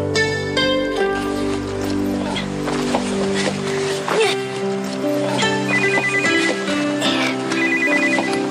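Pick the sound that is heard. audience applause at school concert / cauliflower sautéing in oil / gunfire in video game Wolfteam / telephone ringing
telephone ringing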